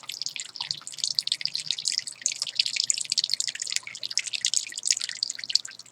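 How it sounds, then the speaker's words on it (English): Water poured into a spider's water dish until it overflows, giving a close, steady run of drips and trickling splashes that goes on without pause, with no voices. "Let's just top off your water dish and overflow it."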